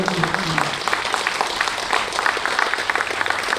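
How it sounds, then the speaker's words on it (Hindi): A crowd gives loud, sustained applause at a Run for Unity event for National Unity Day with the Indian Coast Guard in Mangaluru, a dense wash of clapping that stays steady for the whole stretch. "इन सब महानुभावों के लिए जोर से ताली होनी चाहिए, और ताली की आवाज इतनी ऊंची होनी चाहिए"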